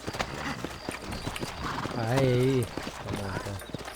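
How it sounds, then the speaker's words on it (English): Horses in the Western video game Red Dead Redemption walk along, clopping hooves heard under steady game dialogue, with a brief neigh-like tone mid-clip and another voice speaking. "You ain't gonna find sturdier horses than these in all of New Austin."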